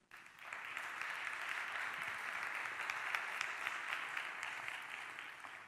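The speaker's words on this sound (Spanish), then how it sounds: "Le damos un aplauso a Javier" A debate audience applauds a panel member with dense, sustained clapping that starts abruptly and holds steady, heard from within the hall.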